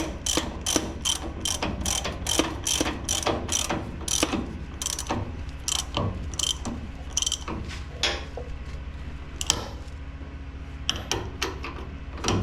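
Castle nut spun back onto a steering box stud in a truck steering box install, giving a rapid series of sharp ratcheting clicks in bursts, close and fairly loud, with brief pauses between runs.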